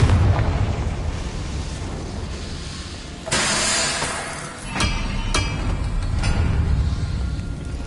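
Confringo fire spell bursting in the Hogwarts Legacy video game, a sudden loud blast with a sustained roaring wash followed by a few sharp crackling pops over a rumbling game backdrop.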